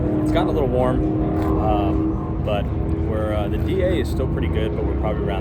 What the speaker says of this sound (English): You can hear some of the cars running in the back right now.